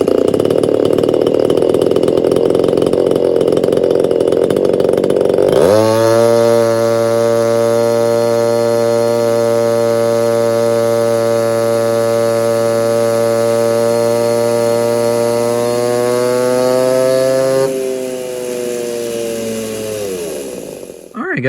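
A chainsaw engine on a dyno sits at a rough idle for a few seconds, then snaps to a loud, steady full-throttle whine that holds for about twelve seconds before dropping back to idle.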